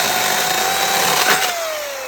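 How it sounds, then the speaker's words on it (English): An electric chainsaw runs at a loud, steady whine for about two seconds, then its pitch drops slightly as the motor load changes near the end. "A chainsaw."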